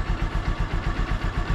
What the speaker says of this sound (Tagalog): So antayin lang muna natin na uminit yung makina.